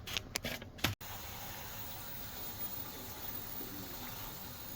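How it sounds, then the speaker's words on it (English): Steady hiss of water rushing into an LG Slim Q laundry tower washing machine, continuous and fairly faint, after a few brief clicks and knocks at the start. "Can you hear and see water coming in?"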